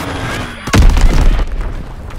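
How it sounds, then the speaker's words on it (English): A bomb explodes in Call of Duty WW2, a sudden heavy boom with a deep low-end thump that rolls on for over a second amid ongoing battlefield noise. "Enemy bomb incoming!"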